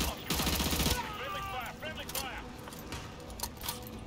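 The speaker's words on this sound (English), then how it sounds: "This AUG is one of my favorite guns in the Call of Duty." A short burst of rapid AUG assault rifle fire in the Call of Duty Modern Warfare 2 campaign rattles out early, then fades into game ambience, with a voice speaking over it.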